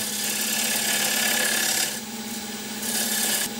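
A woodturning lathe spins while a parting tool cuts a tenon, giving a steady near rasping scrape over a constant motor hum, easing briefly midway before the cut resumes.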